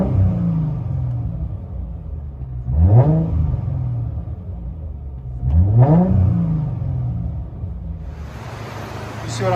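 A 2005 Chrysler Crossfire with a 3.2L V6 and straight-pipe exhaust, heard from inside the cabin, idling with a deep rumble and blipped twice in two sharp, rising revs that fall back, loud and close.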